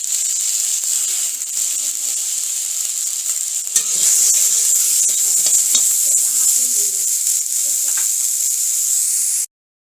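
Potatoes and carrots fry in hot oil with turmeric and salt, giving a steady, loud sizzling hiss with occasional stirring scrapes. The sound cuts off abruptly at the end.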